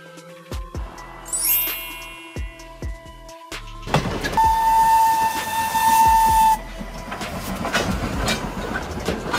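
A steam locomotive whistle, Thomas the Tank Engine, gives a loud sustained blast over hissing steam, preceded by shorter whistle notes and chuffing, with steam hiss continuing afterward.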